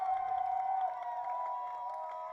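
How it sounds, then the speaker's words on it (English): Crowd at a Lenoir-Rhyne versus Mars Hill college football game rises into a steady cheer and roar as the Lions' defense faces a big third down, a sustained wash of many voices at constant loudness. "Crowd coming to life."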